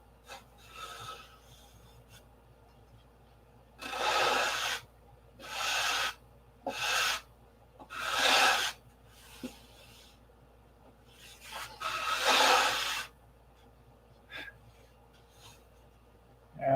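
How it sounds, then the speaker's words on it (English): A P-47 model wing is sanded by hand in several separate bursts of close, raspy back-and-forth scraping, each lasting about a second, with quiet pauses between them and no talking. "I need to sand a little bit out of that"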